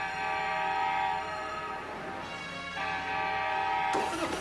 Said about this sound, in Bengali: Mina train train পুয়াপ পুয়াপ।